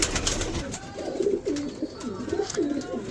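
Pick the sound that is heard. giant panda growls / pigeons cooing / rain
pigeons cooing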